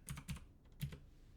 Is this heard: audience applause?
no